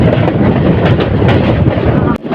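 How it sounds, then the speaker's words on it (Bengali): Parabat Express train running fast along a winding hilly track past rubber and tea gardens, a loud steady rumble with wind buffeting, cutting off abruptly near the end. "যখন আমাদের ট্রেন দ্রুতগতিতে সামনের দিকে চলছে এগিয়ে চলছে"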